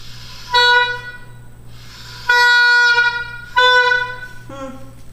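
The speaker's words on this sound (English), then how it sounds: "You heard that hesitation when I blew, and then kind of a honking sound." Oboe reed blown on its own, three loud honking tones, each a buzzy harmonic-rich squawk lasting around a second, with short hesitant gaps and a brief lower squeak at the end.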